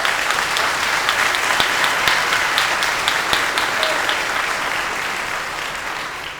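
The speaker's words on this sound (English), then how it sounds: "Give yourselves a round of applause." Graduates at a 2013 high school commencement ceremony burst into sustained applause, a dense wash of many hands clapping that holds steady and then slowly fades.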